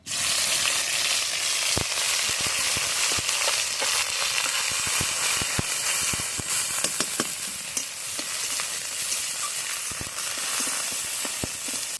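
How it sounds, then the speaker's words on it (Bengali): Dried chilli, cumin and onion frying in hot oil, a steady loud sizzle with scattered sharp crackles and pops over twelve seconds, no voices. "ফোড়নে দেব শুকনো লঙ্কা, জিরে, দিয়ে দেব পেঁয়াজ"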